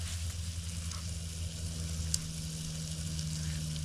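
Onions fry in a pan at a solo canoe campsite, giving a steady, close sizzle with a low background hum and one brief sharp click partway through.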